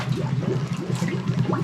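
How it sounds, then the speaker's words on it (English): Water gurgles steadily through an old wooden pipe, a close, continuous bubbling trickle with no voices. "I hear it gurgling away."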